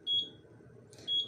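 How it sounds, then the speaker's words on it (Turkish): A kitchen oven's timer alarm signalling that a cake is done: two short, high-pitched electronic beeps about a second apart, moderately quiet over a low room hum. "Fırınımda evet alarm veriyor."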